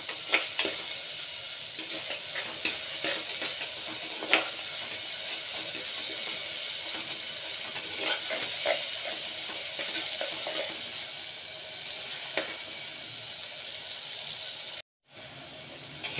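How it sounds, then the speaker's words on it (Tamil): Onions sauté in a pan for mutton kuzhambu, giving a continuous close sizzle with scraping stirs and clicks of a spoon against the pan, and a brief gap near the end. "வெங்காயம் நல்லா வதங்கட்டும்."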